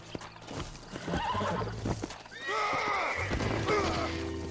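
Horses in the Red Dead Redemption video game whinny loudly several times over a background of clip-clopping hooves, with a brief crash-like thump near the start.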